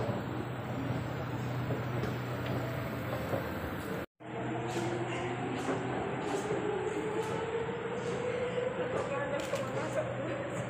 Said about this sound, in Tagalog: Ayan na yung tren.